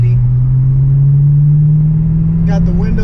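A BMW E92 M3 rumbling while cruising through a city with the windows down, its deep steady engine drone loud and constant, with a faint voice near the end.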